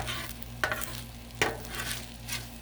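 Stir fry with baby corn, hoisin and soy sauce cooking on a griddle, with a soft continuous sizzle and two sharp spatula scrapes against the hot surface.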